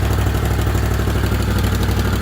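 An engine settles into a steady idle after being throttled down, a loud, close, even low rumble with a fast regular pulsing throughout.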